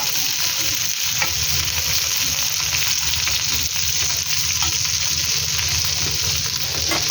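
Eggplant, potato and tomato pieces sizzle steadily in hot oil while being fried for a Bengali vorta mash, a continuous close crackle with faint stirring throughout and no voices.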